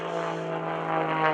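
Aerobatic propeller airplane flown at the 2011 Greenwood Lake Airshow, a steady droning engine buzz with a strong low hum, moderately loud and swelling slightly as it rolls, with no speech over it.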